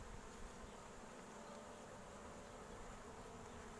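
Honeybees buzz steadily around the queen and her retinue inside an opened hive, a dense, even drone close up that holds with no talk for the whole stretch.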